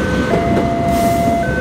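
The KA Malabar passenger train, running from Malang to Bandung, passes at a level crossing with a steady rumble and a sustained tonal whine that fades and then returns across the short stretch.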